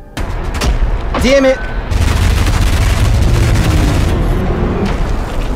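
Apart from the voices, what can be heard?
machine gun fire in the video game ULTRAKILL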